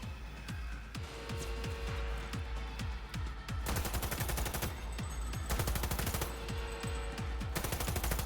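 Heavy artillery fire in Cyberpunk 2077 rattles off in rapid, continuous automatic bursts, loud and sustained, with layered gunshots and impacts piling up over several seconds.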